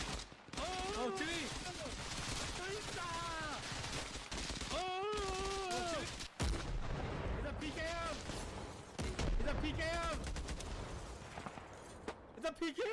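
Sustained bursts of PKM machine gun fire with a grenade explosion in a military shooter game, dense and loud throughout, with excited voices shouting over the gunfire.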